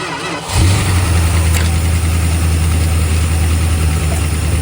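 A 1971 Plymouth Fury engine, sitting abandoned for over 20 years, cranks and catches after a short pause, then settles into a loud, close, slightly uneven idle.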